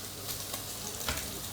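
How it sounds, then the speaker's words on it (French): A steak frying in a pan gives a steady, close sizzle with a few brief scraping bursts, alone and without talk. "Je me fais un bon steak"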